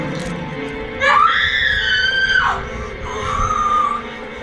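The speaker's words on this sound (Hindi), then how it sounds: "दोनों चीखें मार रहे हैं।" Loud, drawn-out screaming and wailing from the horror film The Exorcism of Emily Rose, with rising and falling shrieks over several seconds.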